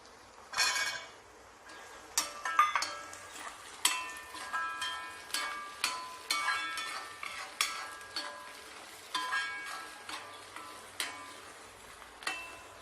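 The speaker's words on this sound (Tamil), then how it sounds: "ஓரளவுக்கு வெங்காயம் வதங்கவும் நம்ம பூண்டை சேர்த்துடலாங்க." Onions and garlic fry in a pan for Tamil poondu kuzhambu, with a soft, steady sizzle under repeated rhythmic scrapes and taps of a spoon stirring against the pan.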